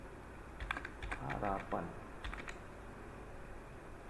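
Quick keystrokes on a computer keyboard come in two short bursts of clicks, soft and close, while someone speaks over part of the typing.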